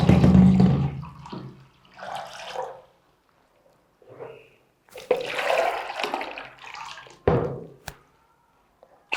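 Water glugs and splashes from a 1 litre bottle into a container in bursts, with pauses between pours and a couple of sharp thunks from the bottle or container being handled.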